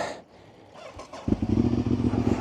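A 22-year-old Honda VTR 1000 SP2 V-twin motorcycle cranks briefly, then catches and settles into a loud, lumpy, throbbing idle close by.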